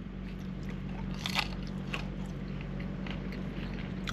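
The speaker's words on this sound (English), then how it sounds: "Can you hear how crunchy that is?" Close, crisp crunching as breaded fried Dairy Queen food is bitten and chewed, several sharp crackly bites over a low steady hum.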